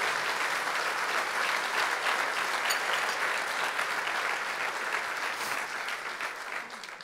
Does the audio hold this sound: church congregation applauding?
yes